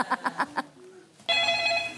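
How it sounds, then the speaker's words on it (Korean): Telephone rings in a short comedy sketch, a few bursts of ringing at moderate volume followed by a bright tonal electronic burst. "일단 테러범한테 전화 온 것 같으니까 어떻게 해야 돼 이제?"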